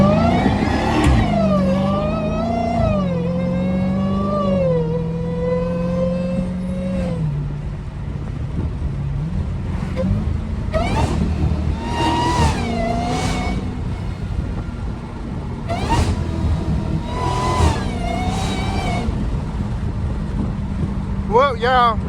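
A Dodge Hellcat's engine revs and accelerates from a light, rising in pitch through several gear shifts, loud and close, with wind and road noise behind it.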